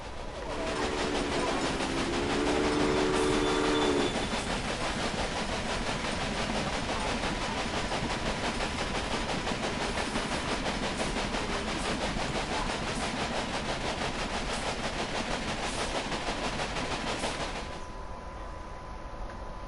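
A train in the Railway Empire video game runs steadily, with a continuous rolling clatter and a tonal whistle-like horn early on, holding an even level before cutting off near the end.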